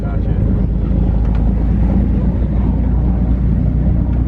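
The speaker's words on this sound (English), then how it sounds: "here sailing across the Bay of Gibraltar" Boat under twin engine power crossing the Bay of Gibraltar at sea, a steady low rumble of motor and water with wind buffeting the microphone throughout.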